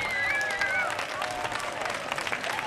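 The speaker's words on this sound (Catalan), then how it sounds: "Un fort aplaudiment" Applause at a school parents' association spring market festival, a scattered round of clapping from a modest crowd with murmuring and voices mixed in, fairly distant and moderate in level.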